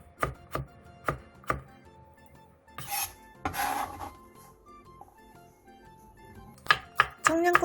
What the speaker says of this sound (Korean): 호박도 양파의 양만큼 다져주세요.